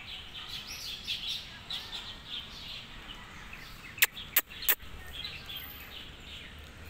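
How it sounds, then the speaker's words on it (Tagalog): Birds chirp softly across a park in Neihu, Taipei, small scattered calls overlapping against quiet outdoor ambience, with a few sharp louder taps near the middle. "Mga ibon, oh. Daming ibon."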